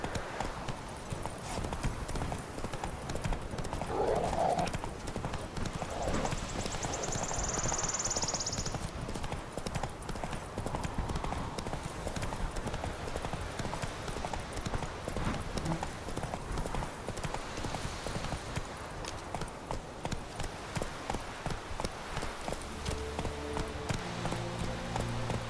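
Hoofbeats of Roach, a horse galloping in The Witcher 3 video game, drum in a steady, loud rhythm against ambient game sound, with a brief whinny partway through.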